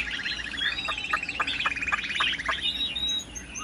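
A newly arrived, tame pet songbird of a three-yellow type chirps up close, loud and alone, in quick rattling runs of bright repeated notes broken by short pauses.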